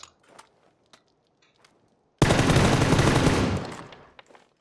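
Sustained burst of automatic gunfire in the battle royale game PUBG on the Erangel map, loud and continuous for about two seconds after near-silence with a few faint clicks.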